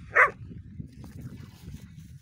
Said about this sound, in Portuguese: Cachorro tá querendo pegar ele.